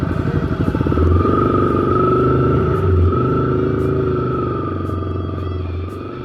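A Honda CRF250L motorcycle climbs a dirt hill off-road, its engine a steady, loud close-up drone with a clattering, rising pitch that holds throughout and eases slightly toward the end.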